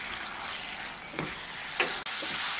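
Pointed gourd is stir-fried with spice masala in a pan, giving a continuous soft sizzle with a few scraping stir strokes and clinks.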